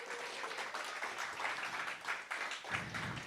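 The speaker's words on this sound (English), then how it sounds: "please give a big hand, keep clapping for our fantastic, amazing team" Meetup audience applauding, a steady dense patter of many hands clapping throughout, moderately loud with no voices on top.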